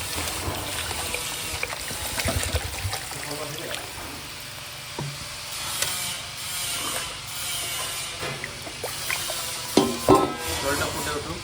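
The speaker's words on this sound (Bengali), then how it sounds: "তো দিয়ে দিচ্ছি ঝোলের জন্য জল" Water is poured into a pan of sautéed potatoes to make gravy for an aar fish curry, giving a hiss and splash with sizzling and stirring clatter, moderately loud with brief sharp scrapes.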